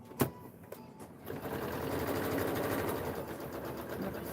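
A domestic sewing machine stitches a shoulder- and waist-darted jacket seam, running in a steady rapid whir after a few brief clicks at the start, close and continuous to the end.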